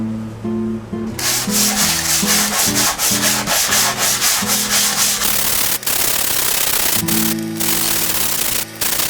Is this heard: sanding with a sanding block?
yes